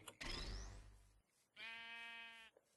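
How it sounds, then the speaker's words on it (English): A sheep bleats in Minecraft, played with an FTB modpack, giving two clear, close calls separated by a short pause, with a brief rising tone near the start. "could get a pet sheep, a pet ram."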